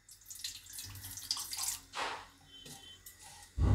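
Water trickles and splashes into a wide kathrot dough bowl for making jowar rotla, a light uneven pour with drips, ending in a louder thump.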